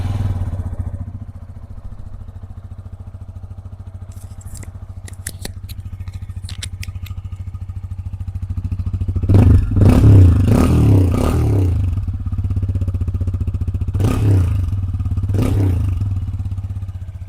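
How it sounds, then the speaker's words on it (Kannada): A TVS Apache RTR 160 2V motorcycle with a large silencer idles with a steady low exhaust thrum. Clattering and scraping handling noises sit over it, and a couple of louder bursts swell in the second half. "ಐಡ್ಲಿಂಗಲ್ಲಿ ನಮಗೆ ಈ ಥರ ಸೌಂಡ್ ಬರ್ತದೆ."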